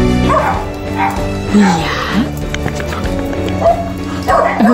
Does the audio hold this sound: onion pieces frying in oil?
no